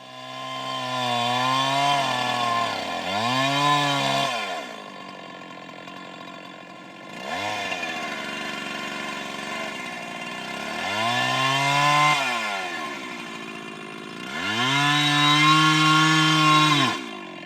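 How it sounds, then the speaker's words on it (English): A chainsaw bucking a log on a logging job, revving up and bogging repeatedly in long surges with pitch swoops as the cut loads and releases, loud and close with idle dips between. "When bucking, watch your kerf to avoid getting your saw pinched."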